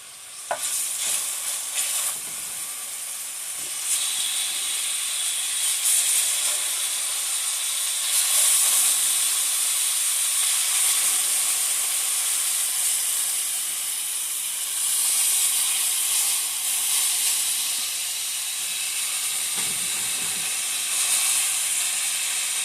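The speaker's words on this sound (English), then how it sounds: "I can go ahead and start adding my rib tips" Spare rib tips frying in a hot pan give a loud, steady sizzle and hiss that runs unbroken for over twenty seconds, close by and with no talking.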